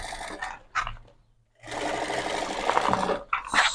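A sewing machine runs a fine edge stitch along lining and synthetic fabric, with a short whirring burst, a pause, then a longer steady run of stitching, close and alone.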